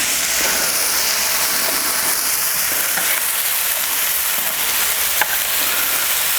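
Wagyu smash burgers and onions sizzle loudly and steadily on a Kamado Joe grill, a dense continuous frying hiss heard up close with no talking.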